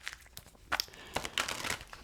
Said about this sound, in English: let me just get to shuffling